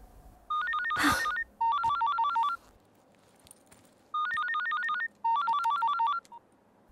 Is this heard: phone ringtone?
yes